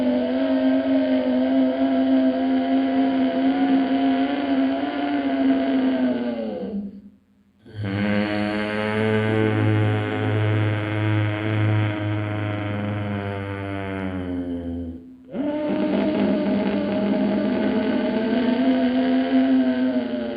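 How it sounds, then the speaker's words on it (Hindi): Deep ujjayi pranayama breathing drawn through a constricted throat, a steady raspy hiss on the inhale, a pause, then a longer rougher exhale with a low rumbling tone, close and loud. "जब मैं सांस को ले रहा हूँ तब भी थायराइड ग्लैंड से, थ्रोट से मेरी आवाज़ आएगी"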